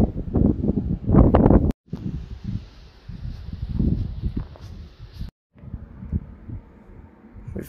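Breeze gusting across coastal sand dunes in a regional park by the beach, rough wind buffeting close to the microphone in uneven surges with brief dropouts.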